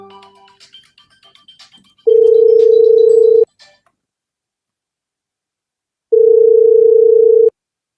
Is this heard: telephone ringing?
yes